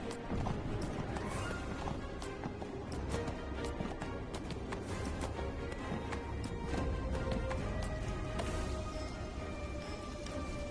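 Horse hooves clop in a steady galloping rhythm in the video game Neverwinter, loud and continuous with a dense backdrop of game ambience and occasional clanks.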